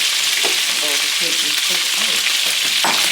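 Loud, steady sizzling of oxtail frying in hot oil for color, crackling continuously close by with a few soft clinks.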